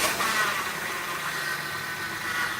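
A car engine runs steadily after being started during a power steering fluid top-up, a close, constant hissing drone with slight swells and no voices.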